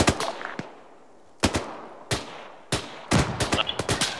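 Gunfire in a military video game rings out in separated bursts and single shots, loud and close, with short quiet gaps between them and nearly no talk.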